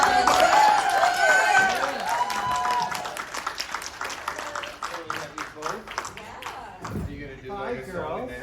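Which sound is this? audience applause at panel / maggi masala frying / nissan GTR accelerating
audience applause at panel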